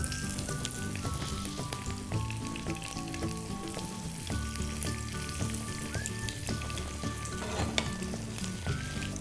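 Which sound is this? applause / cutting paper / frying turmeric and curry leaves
frying turmeric and curry leaves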